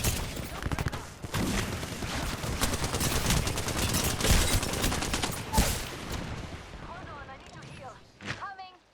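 Dense gunfire and explosions fill a video game battle, with rapid bursts and heavy blasts overlapping continuously and loudly, thinning out toward the end, while voices talk underneath.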